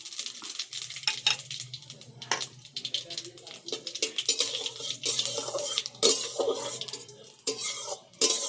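Bay leaves and fennel seeds are stirred in a pan for a sweet-sour tamarind pickle, with clinking spoon-on-metal strokes and scrapes over a light sizzle that come in irregular bursts close by.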